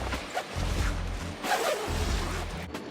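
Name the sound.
zipping up a trailer tent side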